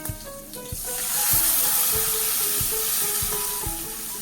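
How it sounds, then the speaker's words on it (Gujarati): Water is poured into a hot tempering of curry leaves, asafoetida and green chilli for oats dhokla, and the sizzle swells into a loud, sustained hiss, with sharp clinks of a utensil striking the pan at a steady pace. "ત્યાર પછી આપણે પાણી એડ કરીએ"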